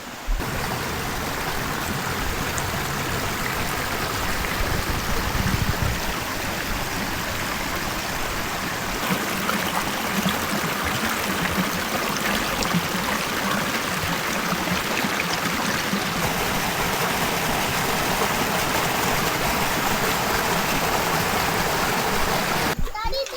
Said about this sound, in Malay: Actually sungai ni daripada air empangan lah.